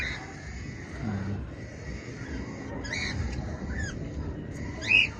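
Five-week-old lovebird chicks give a few short, high squawks, the last one loudest and nearest, over a steady background hiss with a faint low murmur.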